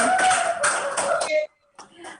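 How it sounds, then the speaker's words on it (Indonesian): Audience applause at the close of a KPU South Sumatra regional election simulation webinar: a dense burst of clapping for about a second and a half, a brief pause, then a smaller second round. "kita beri tepuk tangan yang meriah dong untuk kita hari ini"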